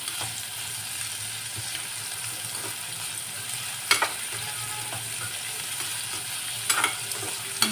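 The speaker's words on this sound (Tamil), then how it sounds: "சீக்கிரமாக வதங்கிவிடும் வெங்காயம்" Onions sautéing with salt in hot ghee for a mushroom biryani: an even, continuous hiss of frying with a few sharp clicks of a utensil on the pan, heard alone.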